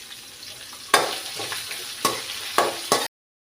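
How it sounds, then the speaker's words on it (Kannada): Beans and carrot frying with curry leaves in a pan, a soft background sizzle punctuated by four sharp spatula scrapes and knocks before it cuts off abruptly. "ಇದಕ್ಕೆ ಸ್ವಲ್ಪ ಕರಿಬೇವು ಕೂಡ ಹಾಕಿ ಫ್ರೈ ಮಾಡುವ."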